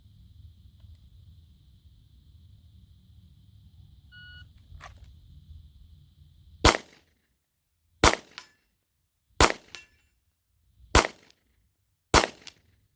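Five sharp, loud pistol shots from a Ruger Max-9 with a Galloway Precision short stroke trigger, fired outdoors at a 60-yard target and spaced roughly a second and a half apart, each followed by a brief echo, after a steady electronic beep and low background hum.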